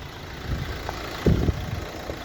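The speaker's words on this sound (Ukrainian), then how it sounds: "Мурчить, просто мурчить двигун." A 2012 Renault Megane III GT-line 1.5 diesel engine idles with a low, steady rumble and soft knocking pulses, a couple of slightly louder bumps midway.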